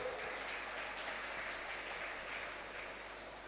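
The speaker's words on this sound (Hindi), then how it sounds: "एक बार जोरदार ताली बजा दीजिए" Audience at a Kargil Vijay Diwas poetry recital claps in a soft, distant, continuous patter that fades slightly over three and a half seconds.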